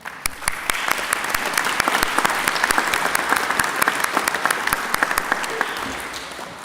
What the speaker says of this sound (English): I request my fellow graduates to please give a big round of applause to our parents and partners present here.